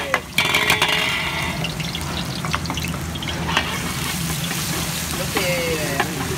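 Garlic frying in oil for a tuna steak sauce, a steady close sizzle running throughout with occasional stirring clinks and scrapes.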